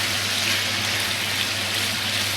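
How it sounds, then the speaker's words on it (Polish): Meat for bigos sizzling in a frying pan, a loud, dense, continuous crackling hiss with no pauses and no voices over it. "mięso się już smaży."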